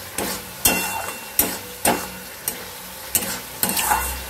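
A spice mix stirred and fried in oil for chicken kofta curry: about eight sharp scraping stir strokes in a steady rhythm over a constant sizzle.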